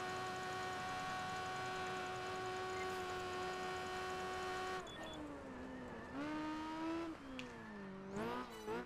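A car racing at full speed across a bridge in Project Gotham Racing 4, its engine holding a steady high drone before shifting and rising through revs with tire noise and quick gear changes.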